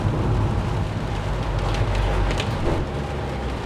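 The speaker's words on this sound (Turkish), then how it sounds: "Çok güzel yağıyor ya." Steady, heavy rainfall, a dense hiss with a low rumble beneath, continuous and unbroken throughout with no voices.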